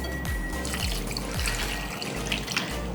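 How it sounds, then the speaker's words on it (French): Water runs steadily from a tap into a pot of freshly cut yams for boiling, a continuous close splashing and pouring with no talk. "on va rajouter de l'eau."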